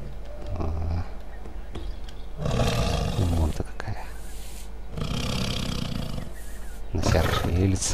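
A lioness in the Far Cry Primal video game roars in three loud, rough bursts spaced a few seconds apart over a steady low background rumble.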